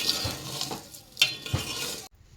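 Gobindobhog rice being stirred with ghee in a pan, a close scraping stir with soft sizzling and a few light utensil clinks, ending abruptly.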